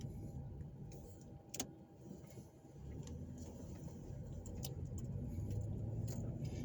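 Cars pass on a street in Evansville, Indiana, as a low, faint rumble of engines and tires that swells toward the end, with no talking.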